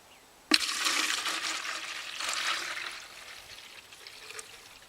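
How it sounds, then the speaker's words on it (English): Sugar syrup pours steadily into a bee feeder with a rushing, splashing sound that starts abruptly, swells, then tapers to a gentle trickle; no talking. "So I'm going to go ahead and pour it in over here away from the bees"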